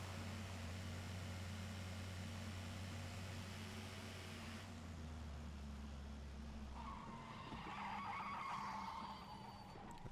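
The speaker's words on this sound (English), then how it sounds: "The braking sounds really weird as well." Car engine drone in the video game PUBG gives way to a screeching tire skid as the vehicle brakes hard, loud and close, no voices.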